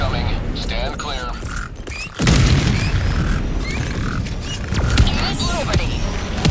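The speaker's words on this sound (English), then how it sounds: "Orbital barrage incoming." Orbital barrage explosions in Helldivers 2 boom repeatedly at a distance, followed by a sustained rumbling roar, while game voices and chatter carry on over the blasts.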